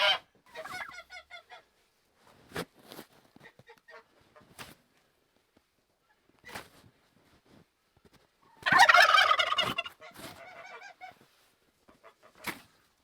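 Turkeys on a snowy farm gobble in short rattling bursts, one loud close chorus in the middle and scattered fainter gobbles around it, separated by quiet gaps.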